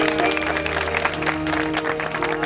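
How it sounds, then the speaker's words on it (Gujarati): An audience at a Gujarati lok dayro folk gathering claps for the guests, a dense, steady wash of applause with sustained musical tones running beneath it. "એ તમામ મહેમાનોને એકવાર જોરદાર તાળીઓથી આપણે વધાવીએ"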